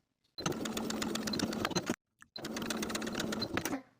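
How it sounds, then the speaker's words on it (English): A sewing machine runs steadily while top stitching a tank top and cardigan set, with two long continuous bursts of rapid stitching separated by a brief stop, close and loud. "Then top stitch in place just as we did on the front."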